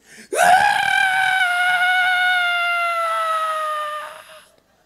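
A preacher's voice imitates a woman's Tarzan-like scream, one long loud sustained wail rising sharply and holding for about four seconds before fading, close and alone.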